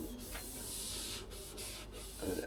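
Sanding down a thick coat on a Mazda MX-5 Miata while prepping it for a respray gives a steady abrasive rubbing hiss with short strokes and brief pauses, fairly quiet and close.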